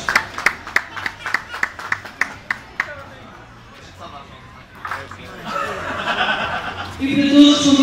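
A crowd at the Santo António festival parade of popular marching groups claps in a steady rhythm of about a dozen sharp claps, then the clapping fades into laughter and rising crowd chatter.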